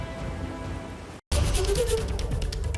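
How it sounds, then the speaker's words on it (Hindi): Heavy monsoon downpour in Ranikhet, in the Himalayan region, a dense, steady hiss of rain pounding surfaces up close, with a brief dropout partway through before the roar resumes even stronger. "रानीखेत में मूसलाधार बारिश हो रही है"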